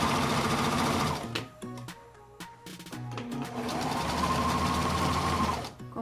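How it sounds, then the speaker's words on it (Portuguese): Domestic sewing machine stitching backward to lock a seam, a steady close mechanical whirr that breaks into stuttering bursts midway before running smoothly again, no talking. "É quando você está costurando e aí você resolve costurar para trás para poder firmar aquele ponto."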